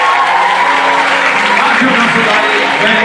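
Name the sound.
crowd applauding a player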